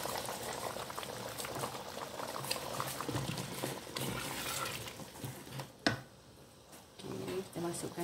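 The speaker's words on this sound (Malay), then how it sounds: "Okey, sekarang kita masukkan santan." Goat and banana curry simmers and bubbles steadily in a village-style pot as coconut milk is poured in, a continuous close boiling hiss with a brief sharp knock near the end, under faint background voices.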